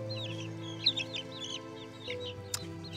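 A chicken clucks repeatedly in short, close bursts over a steady low hum, with a sharp click near the end.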